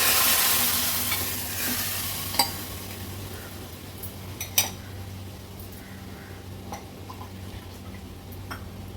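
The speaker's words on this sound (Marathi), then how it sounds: "वरण व्यवस्थित मिक्स करून घेते आणि फोडणीला घालते" Cooked dal is poured into a sizzling ghee tempering and stirred in a pan, giving a soft, steady frying hiss with a few sharp spoon clinks against the pot.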